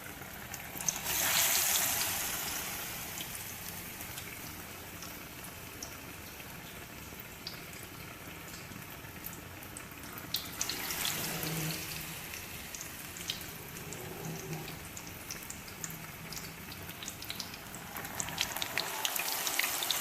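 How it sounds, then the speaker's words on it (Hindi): Potato tikkis dipped in gram flour batter deep frying in hot oil, a faint, steady bubbling crackle with soft pops and brief louder bursts of sizzle. "ये आलू की टिक्कियाँ हमारी फ्राई हो रही हैं।"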